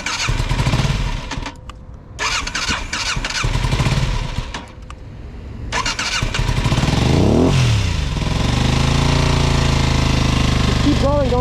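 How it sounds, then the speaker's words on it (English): An engine on an Aprilia motorcycle revs loud and close, the revs rising and falling over a dense, rough roar, with brief speech and a pitch sweep partway through. "Keep her revved up."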